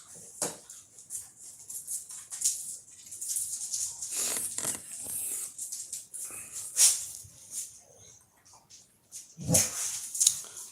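A pet dog barks and whimpers in a home, with scattered short yelps and whines, moderately close, separated by quiet gaps and a louder cluster near the end.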